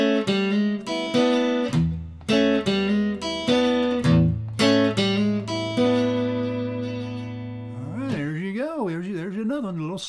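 A guitar plays a slow blues riff of plucked single notes and low bass tones that ring and decay one after another. A voice speaks over the last couple of seconds.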